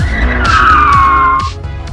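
A 1999 BMW E36 M3 on the road, with a loud, sustained tire squeal sliding slowly down in pitch over engine noise and road rumble.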